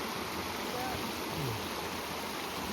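A cold, clear, fast-flowing stream near Blakiston Falls in a canyon, a steady broadband rush of water heard close up, with voices faintly mixed in.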